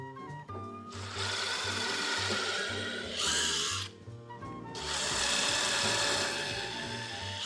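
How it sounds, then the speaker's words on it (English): A power drill pre-drilling holes in a wooden board for a sign, with two loud whirring bursts as the bit bores in, separated by a short pause. "So let's pre-drill a few more."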